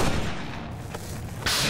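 Gunfire in a shooter video game, a dense burst of booming shots that blur into a continuous rumble, followed by a sharp, bright blast at the end; no voices.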